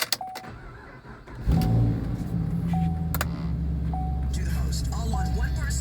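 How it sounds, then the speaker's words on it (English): Chevrolet Camaro starting up: a click and brief whir, then the engine catches and settles into a steady loud idle rumble, with repeated electronic chimes over it and a person talking. "So let me start up the car and you can see this thing boot up."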